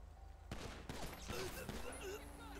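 A few sharp gunshots and bursts of fire from a GTA V police mod game, heard close over a noisy game soundscape, with someone talking over the shots.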